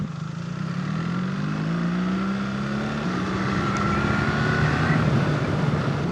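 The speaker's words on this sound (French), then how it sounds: "l'occasion de tester un peu cette GS sur la route." A BMW R1300 GS motorcycle riding along a road gives a steady engine drone that rises gradually in pitch, with a shift midway and continuous wind rush.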